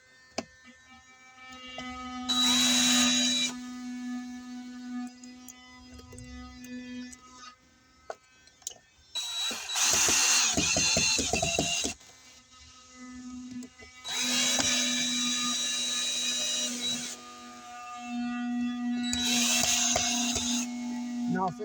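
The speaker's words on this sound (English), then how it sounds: "Now screw it in with our screw gun." A screw gun drives screws into an outdoor GFI receptacle in four loud whirring bursts, each lasting a couple of seconds, separated by quieter pauses with small clicks and handling noise.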